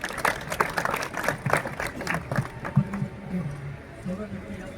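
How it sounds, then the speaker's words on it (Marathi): An audience at a Shivjayanti program applauds with a burst of loud, rapid clapping that fades while a voice speaks over the tail end. "तर जोरदार टाळ्या याच्यासाठी"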